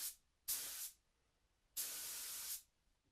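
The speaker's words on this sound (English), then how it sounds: "I then sprayed some shellac on it and set the piece aside to dry for a day" Two hissing bursts from a spray can applying shellac onto a wooden live edge clock, the first under a second long and the second longer, close and steady with quiet between.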